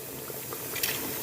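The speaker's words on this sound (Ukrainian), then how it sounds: "Воно повинно кипіти" A pot of lard with meat bubbles at a boil, a dense close seething of small pops and gurgles with no talking.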